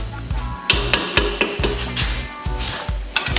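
Red kidney beans for Jamaican rice and peas are stirred in a pot, a spoon scraping and knocking against the sides in a steady rhythm of about six strokes, close and clear with faint sizzling underneath.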